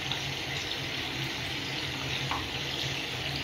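Water boils steadily in a pot of fish soup, giving a dense continuous bubbling hiss that stays even and close throughout with no talking.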